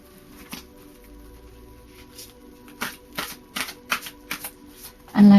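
A deck of Psychic Tarot cards is shuffled by hand, giving a quick run of soft riffling flutters and taps that builds toward the end, close and clear in a quiet room.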